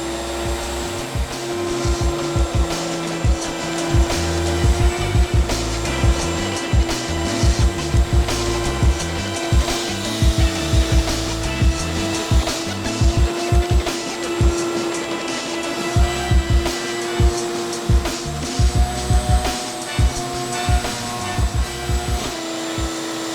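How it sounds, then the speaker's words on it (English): A vacuum cleaner from a hyperCLEAN carpet cleaning system runs over carpet with a steady, loud whine, and repeated bumps and thuds come from the head being pushed back and forth in strokes. "Right, nice, easy, smooth vacuuming."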